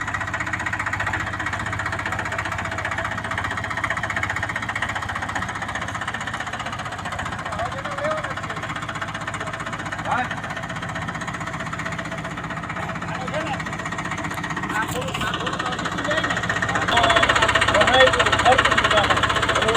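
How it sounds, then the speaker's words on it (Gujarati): A tractor engine runs steadily at a low, throbbing idle throughout. It grows a little louder toward the end while people talk over it nearby. "આવી ગયું ટ્રેક્ટર"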